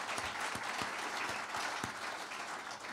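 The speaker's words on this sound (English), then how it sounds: "I'm going to ask for a round of applause for the tip of the spear." Audience applause at a political election review gathering, a continuous, fairly faint wash of many hands clapping throughout, with a few sharper individual claps standing out in the mix and no speech.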